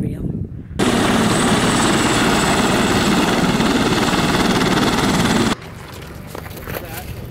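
A tour helicopter flying over the Grand Canyon gives a steady, loud rotor and engine roar that fills most of the clip, then drops to a quieter cabin rumble near the end.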